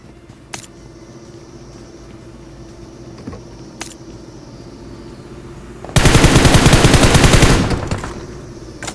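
Bursts of automatic gunfire from a fight in the BGMI video game: faint isolated shots early on, then a loud sustained volley of rapid rounds lasting about two seconds before fading.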